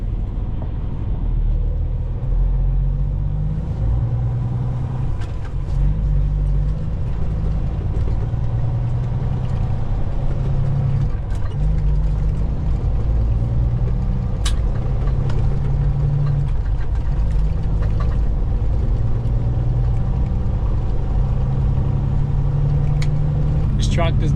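An International 4900 truck with a Cummins ISX engine runs steadily, a low, continuous diesel drone heard from nearby, with a voice speaking over it at times.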